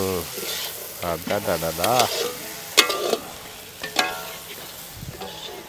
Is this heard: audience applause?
no